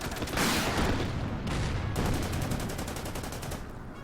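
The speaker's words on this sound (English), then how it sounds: "let's take this shot with the Panzer IV" A Panzer IV tank opens fire in the Order of Battle WWII strategy game, loud dense bursts of rapid gunfire and explosive cracks rolling continuously with no pause and no talking.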